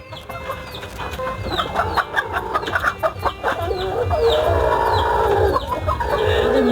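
Tiger chickens cluck and cackle together on a poultry farm on a rainy day, a busy, close chorus of overlapping calls with a rooster-like crow rising among them.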